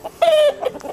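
A chicken in a coop at a poultry farm, with birds eight months old, gives a short drawn-out cluck followed by a few quieter clucks, close and alone.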